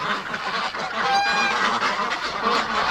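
A flock of wintering ducks and geese honking and calling together in a loud, continuous, overlapping chorus from close by, with no voices.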